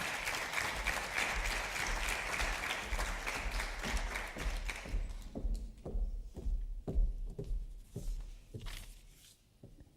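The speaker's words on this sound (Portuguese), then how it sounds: "Apresento-vos Mariana Martins com uma salva de palmas" An audience applauds warmly to welcome speaker Mariana Martins at a talk. The clapping is dense and sustained at first, then thins to scattered individual claps that fade toward the end.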